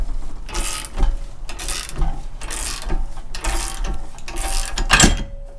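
A bench vise is cranked down against a ball joint in a repeated ratcheting, clicking rhythm of mechanical strokes at close range, with a sharper metallic pop near the end.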